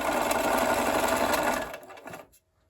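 A sewing machine stitches quilt strips sewn right sides together, a fast steady whirring rattle close up that slows and stops after about two seconds, with a short final burst before silence.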